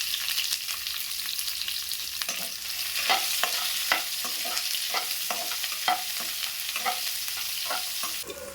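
Dried red chillies and sliced onion fry in hot oil, a steady sizzle broken by repeated scraping strokes of a spoon stirring the pan, close and moderately loud, with no voices.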